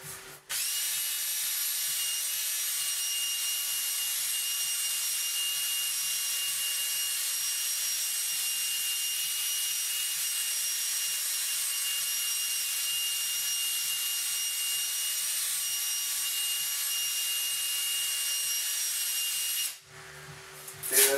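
Acrylic sheet sanded with an 800 grit pad: a steady, loud, hissing abrasive rush with a faint regular pulsing underneath, running unbroken for about twenty seconds before stopping abruptly near the end.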